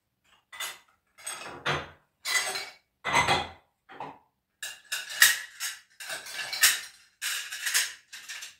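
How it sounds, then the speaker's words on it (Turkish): Plates and cutlery clink and clatter in a series of short bursts, some louder and fuller, as dishes are stacked into a home dishwasher at close range, with no talking. "Şimdi de bulaşık makinemizi yerleştireyim."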